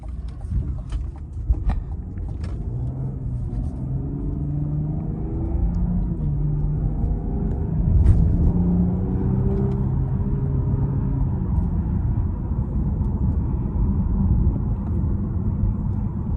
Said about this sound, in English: Let's take it out, do a quick night drive.